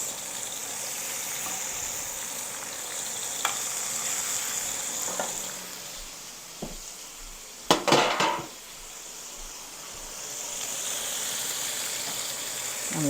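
Steaks go into a very hot pot to sear, with a burst of sizzle and a clatter of metal around the middle, over a continuous background hiss of heat.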